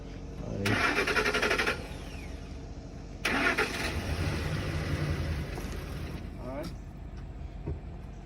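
A 2005 Pontiac Grand Prix at a police towing auction cranks twice, the second start catching into a low idle that runs on, with brief talk nearby.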